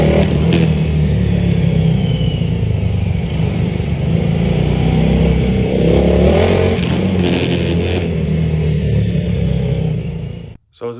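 A Honda Grom motorcycle engine revs hard and accelerates along open straights, a loud, continuous close-up buzzing drone rising through the gears, cutting off abruptly at the end.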